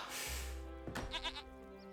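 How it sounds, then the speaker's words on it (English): Goats bleat in a village within an Age of Empires 3 match, a few quick wavering calls close together over low game ambience, no talk. "Got the goats here, being nice and fattened"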